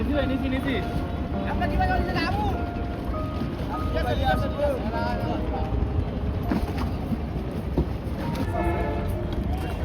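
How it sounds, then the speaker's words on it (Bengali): A small wooden dinghy fitted with a shallow-pump style engine on the Buriganga river at Sadarghat launch terminal gives a steady, loud, continuous engine rumble, with horn-like tones and people talking throughout. "মেশিন লাগাই নিছে তারা, স্যালো মেশিনের মতো।"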